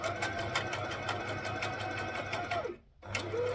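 A sewing machine stitches a rashie with a steady, close, continuous whirring run, breaks off for a brief moment near the end, then starts up again.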